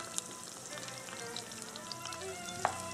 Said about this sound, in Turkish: Soğanlar şeffaflaşmaya başladı. Biraz daha kavrulması gerekiyor.